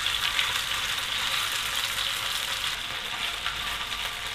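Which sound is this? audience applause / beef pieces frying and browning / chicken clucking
beef pieces frying and browning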